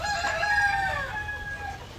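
Chickens cluck and a rooster crows close by in a farm breeding pen, a clear drawn-out crow ringing over softer clucking for about two seconds with no talk.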